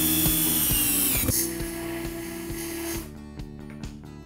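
A power drill runs during the assembly of a built-in wardrobe in an attic bedroom, whirring steadily with a falling pitch and rhythmic ratcheting clicks, then winding down near the end.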